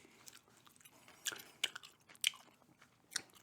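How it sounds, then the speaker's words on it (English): Chewing gum is worked in the mouth close to a microphone: soft, moist chewing with a few sharp, crisp snaps and clicks spaced out over a quiet background, no talking. "I'm chewing gum because a lot of humans like to do it."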